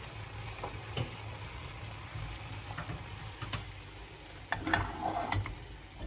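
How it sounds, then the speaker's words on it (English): A gelatin mixture boiling in a pot, a steady bubbling and sizzling hiss with scattered sharp pops and ticks, louder bursts near the end, no talking. "this is come to the boil"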